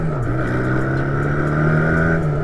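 Steady idle from a Honda Rebel 125 motorcycle with its airbox removed, a continuous low engine drone holding an even pitch throughout, close and fairly loud with no talking.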